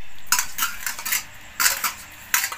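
Boiled potato is mashed by hand with green and dried chilli and mustard oil, bringing a few bursts of clinking and scraping against a metal plate, separated by short pauses.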